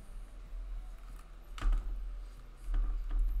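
Someone types on a computer keyboard, with a few scattered key taps and a brief cluster of quicker clicks, close and fairly quiet over faint background hum.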